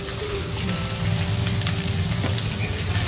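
Chillies, garlic paste and asafoetida sizzle in hot oil, making a steady, close frying crackle that runs the whole time with no voices over it.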